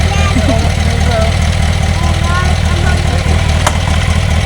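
Steady car engine hum while driving, a loud continuous low rumble filling the whole stretch, with faint higher noises above it and a brief sharp click near the end.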